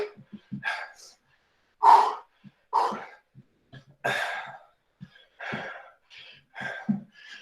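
Heavy, forceful breaths and gasps during a live home exercise workout, coming in several separate bursts with short silences between them, close to the microphone and mixed with brief spoken words.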